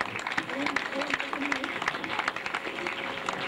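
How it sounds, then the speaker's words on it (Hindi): Audience applause at an inauguration ceremony for a computer learning center in Kotri, a dense patter of clapping that runs throughout at moderate volume, with a voice talking over it. "बजाइए ना भरपूर तालियां"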